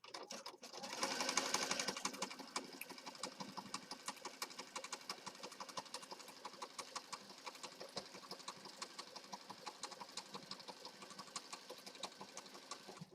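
A sewing machine stitches down the edge of a junk journal piece, a long run of rapid, even needle clatter that is louder at the start and then settles into a steady, fairly quiet patter.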